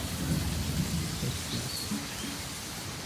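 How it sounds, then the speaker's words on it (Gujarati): Steady rainfall in Gujarat, a soft continuous patter and hiss that holds evenly across the short stretch, with no voices. "વરસાદ ચાલુ થઈ ગયો છે, મતલબ કાલનો વરસાદ ચાલુ છે"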